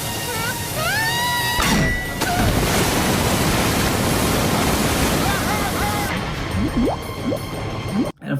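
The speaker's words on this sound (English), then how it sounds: "It starts flooding the entire house." Floodwater surges loudly through a house in a Home Alone 4 film scene, a dense continuous roar of rushing water with brief tonal sweeps from the score and faint voices near the end.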